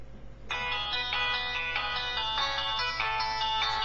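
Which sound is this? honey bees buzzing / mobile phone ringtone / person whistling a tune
mobile phone ringtone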